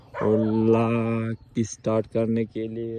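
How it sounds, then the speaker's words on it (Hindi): Dog barking in front of a farm field after heavy rain, short sharp barks mixed in with someone talking close by. "अरे सामने कुत्ता भौंक रहा है"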